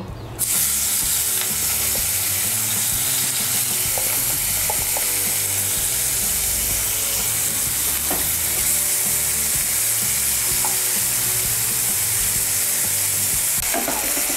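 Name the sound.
prawns with salt and turmeric frying in hot oil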